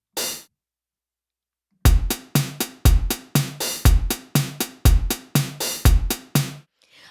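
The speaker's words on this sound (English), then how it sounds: "move the last and of the close hi-hat to an open hi-hat" After a brief hit and a pause, a programmed drum beat starts with kick, snare and ticking hi-hats, an open hi-hat ringing out at the end of each bar.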